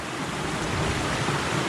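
Water rushes steadily through the channel of an old mill power canal on a trail walk, a continuous broadband wash of flow, fairly close and unbroken, with no voices over it.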